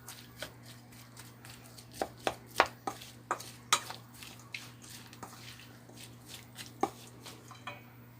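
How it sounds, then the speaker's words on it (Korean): Seasoning for perilla leaf kimchi being mixed by hand in a bowl, with irregular taps, clicks and wet squishes close by, over a steady low hum, and no talking. "골고루 섞어주세요."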